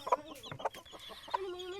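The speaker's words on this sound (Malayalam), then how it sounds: "നമ്മുടെ കോഴിയും നമ്മുടെ കോഴിയുടെ പിള്ളേരും" Several short, bright clucks and chirps from a nearby hen and her chicks, overlapping in an uneven rhythm with a thin peeping tone near the end.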